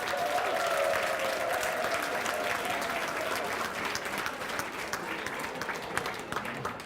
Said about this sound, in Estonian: Veel aplaus, aplaus, aplaus,